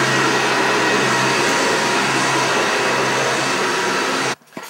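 A vacuum cleaner runs loud and close with a steady motor roar that holds for over four seconds, then cuts off abruptly.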